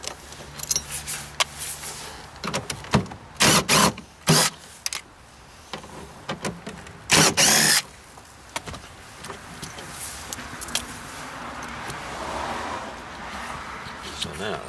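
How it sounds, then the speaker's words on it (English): A small impact gun rattling off 10 mm bolts on a Mazda Miata during a gear shift dust boot job, in several short loud bursts spread across the first half, followed by quieter workshop handling noise with speech around it. "We're gonna do it the easy way today with the little impact gun here."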